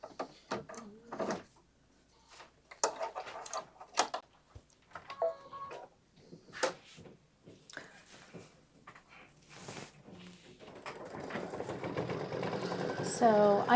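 A Kimberbell embroidery machine stitches satin outlines around flowers, starting as scattered clicks and short whirring bursts, then settling into a steady, rapid mechanical hum that grows louder toward the end, with people talking nearby.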